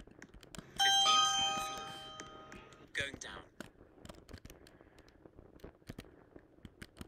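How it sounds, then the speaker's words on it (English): A video game elevator chime on a retrofitted pool elevator rings out as a sustained bright tone with overtones, followed by a short burst and scattered clicks and soft noises as it fades. "Diamond Rift's chime"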